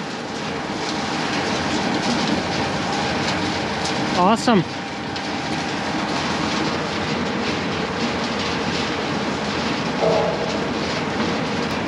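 Steady broadband mechanical roar of a grain elevator leg running continuously after an overfilled bin, with a brief squeal partway through and a short spoken remark.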